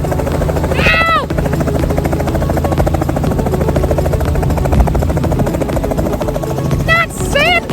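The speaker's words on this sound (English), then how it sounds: "And now he's landing." A helicopter sets down on a sandy beach, its loud, steady rotor and engine roar filling the whole stretch up close, with brief high squealing chirps near the start and end.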